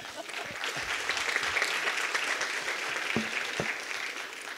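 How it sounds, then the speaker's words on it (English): A conference audience applauds after a closing panel's comments, a steady moderate wash of clapping with a few louder individual claps standing out. "I think that applause suggested that your comments and reflections resonated with the group"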